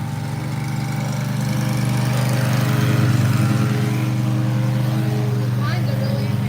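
Push lawn mower cutting a lawn during landscaping work, its engine droning loud and steady close by throughout.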